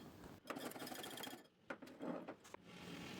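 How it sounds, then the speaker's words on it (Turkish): Ingredients for a second sauce for spinach börek get whisked in a bowl, a quiet, fast, rhythmic clatter of the whisk against the bowl that runs in short bursts with a brief pause. "Hepsini güzelce çırpıyorum"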